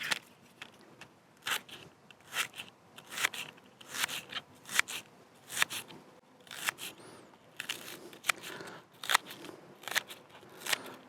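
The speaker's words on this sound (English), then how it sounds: "this knife is a bit thick actually for finely cutting things." A thick knife chops a red onion outdoors at a campsite, a series of sharp, crisp cuts with an irregular rhythm, close and fairly quiet, with no voices.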